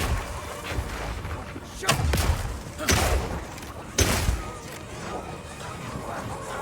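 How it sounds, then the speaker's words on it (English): Oil grenades launched in the action role-playing game Path of Exile 2, heard as three heavy thumping impacts about a second apart over a dense, noisy game soundscape, with faint talk underneath. "Firing one of these grenades coats the ground and nearby enemies in oil."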